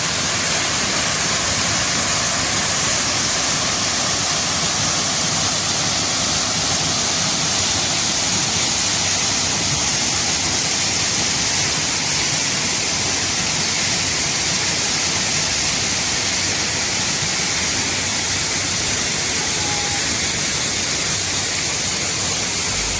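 A waterfall at Phu Pha Yon in Sakon Nakhon, Thailand, roars as a loud, steady, broadband rush that holds unbroken throughout, close by, with no talking.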